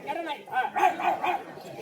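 A dog barks in a short run of close, yappy barks, three or four quick bursts that overlap people talking nearby.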